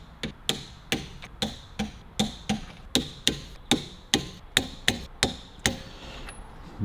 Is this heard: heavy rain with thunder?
no